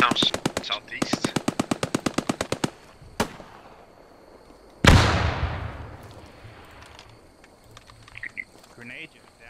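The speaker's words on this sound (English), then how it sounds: "I've set up an MG42 behind your position" MG42 machine gun in the game Post Scriptum fires a rapid burst of sharp cracks, followed by a lone shot and a heavy distant explosion with a long rumbling decay, then faint scattered battlefield noise.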